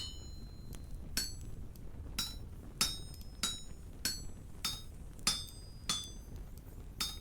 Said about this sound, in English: Put it on an anvil and have a hammer ready also. Now you just want to break off these dark chunks.